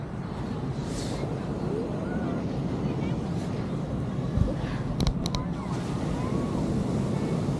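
Waves wash steadily onto a beach in Quy Nhon, Vietnam, a continuous broad surf roar with wind buffeting the microphone and a voice speaking faintly beneath.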